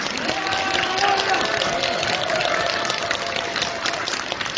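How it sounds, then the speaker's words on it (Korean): A crowd at a political rally in Jeonju, a report meeting on the Yoon Suk-yeol impeachment, claps and cheers continuously and loudly, with voices and a tonal hum mixed into the dense applause. "이성윤 의원에게 큰 격려 박수 한번 보내주시기 바랍니다"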